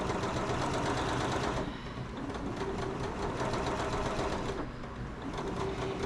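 A sewing machine stitches a gathering line on a dress bodice, running in two fast, steady bursts with a brief pause between them, near and clear.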